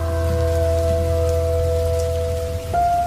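Steady, dense downpour of heavy rain, continuous throughout, with a constant tonal hum running underneath.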